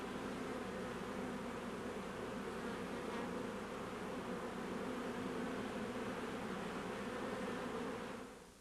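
Honey bees buzz continuously around their colony, a dense, steady drone of many insects close by that holds unchanged for several seconds before fading at the end.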